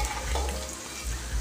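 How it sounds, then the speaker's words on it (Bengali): Whole peeled garlic cloves fry in hot oil for a chicken curry, giving a continuous close sizzle with faint stirring movement and no speech. "রসুনটা হালকা বাদামি করে আমি ভেজে নিচ্ছি।"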